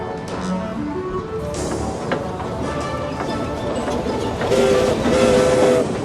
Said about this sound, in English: Sir Handel loved the hustle and bustle as he carried on with his passenger trains